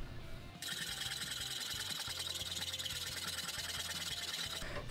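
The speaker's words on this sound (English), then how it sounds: "I then moved on to hand rasps and files" A hand rasp files a wooden axe handle in steady back-and-forth strokes, a bright scraping rasp starting after a brief pause and continuing evenly and close up to the end, with no voices.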